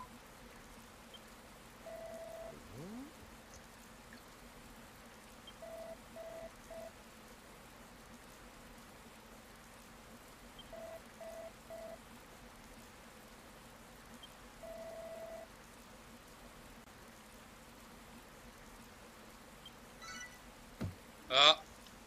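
Steady rain falls in the video game Dragon Quest Builders 2, a soft, even hiss lasting throughout, dotted with a few short electronic blips and a brief sharper burst near the end.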